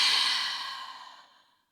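A single deep exhale through an open mouth, breathy and close, starting strong and fading smoothly to silence over a second and a half.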